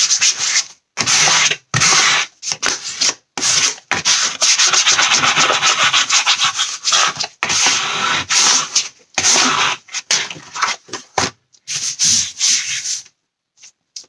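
Glue being spread by hand across a paper album, loud, close scratchy rubbing strokes in rapid bursts separated by brief silent gaps, with no voices.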